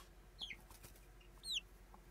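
A chicken gives two short, high clucking calls close by over faint outdoor background noise.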